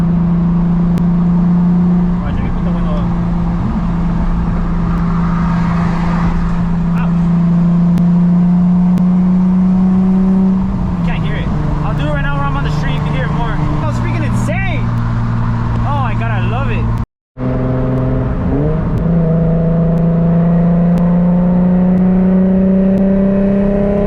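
Turbocharged Nissan 350Z with a rear-mount turbo and a custom Tomei exhaust, heard up close as a loud, continuous engine drone with a few gentle rises and dips in revs and a brief cut-out near the end.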